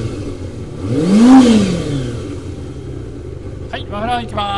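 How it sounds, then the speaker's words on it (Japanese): A Kawasaki Zephyr χ motorcycle engine catches and idles, giving one rising and falling rev before a person starts talking over the running motor. "ではエンジン始動していきたいと思います。"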